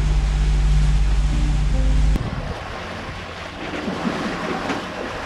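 A sailboat moves slowly across the sea at about four knots. A steady low engine-like drone cuts off abruptly, leaving wind and the wash of waves against the hull.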